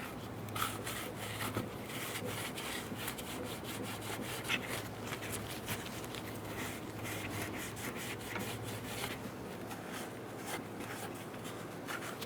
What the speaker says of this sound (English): Take a clean rag and wipe down the area where the gasket will sit.